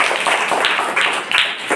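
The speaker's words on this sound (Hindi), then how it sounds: "ताली बजाओ" Children clapping their hands together in a group, a quick ragged patter of claps repeating in bursts, close and fairly loud, with voices mixed in.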